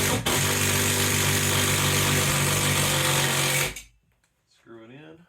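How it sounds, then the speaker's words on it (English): A power drill drives a screw into a TV wall mount bracket, giving a loud, steady whirring burst of about three and a half seconds that cuts off abruptly before brief nearby talk. "Take your drill."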